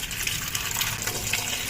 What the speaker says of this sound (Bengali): আর এগুলাকে এখন আমরা ভালোভাবে ধুয়ে নিব,